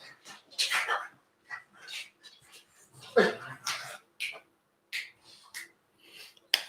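Dogs making scattered short yelps and whimpering noises in a home kitchen during cooking, brief bursts separated by quiet gaps, with some talk nearby.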